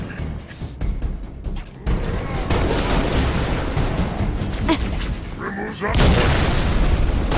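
Loud battle noise from Halo: Reach on the Winter Contingency mission, with gunfire bursts and heavy explosion booms in dense continuous chaos and voices calling out between shots.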